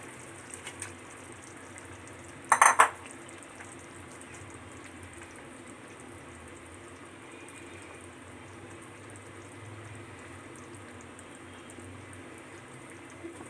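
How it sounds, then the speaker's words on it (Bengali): Pieces of pangash fish drop into a boiling curry with one brief, splashy burst, followed by soft, steady bubbling in a quiet kitchen. "এখন আমি এটার ভিতরে মাছটাকে ছেড়ে দেব।"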